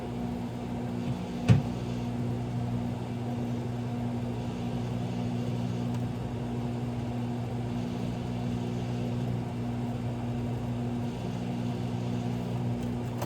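A microwave oven hums steadily throughout, a low constant drone with a single brief click near the start.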